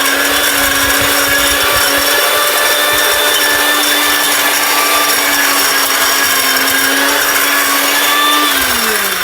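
A powerful mixer grinder runs at full speed, a loud steady motor whine with a high-pitched hum that holds constant and drops slightly near the end, heard alone and up close.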